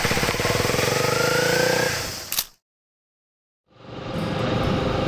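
A Honda CB250R single-cylinder motorcycle engine hums steadily as it rides along a rice-field road, cuts to silence for about a second, then comes back.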